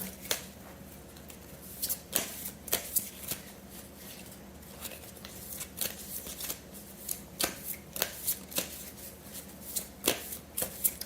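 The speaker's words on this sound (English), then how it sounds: "I'm going to pull a few of these love bombs, kindness cards" Tarot-style kindness cards being shuffled and pulled, giving repeated crisp riffling bursts and soft snaps at an irregular pace, close and clear with no talk over them.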